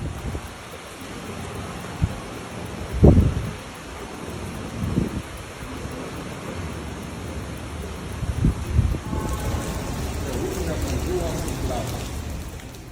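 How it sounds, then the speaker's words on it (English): Heavy rain pours during record flooding in Fort Lauderdale, Florida, a continuous hiss of rainfall broken by a few louder thumps and splashes, with the texture shifting slightly in the last few seconds. "A month's worth of rain fell in 1 hour during Wednesday's deluge."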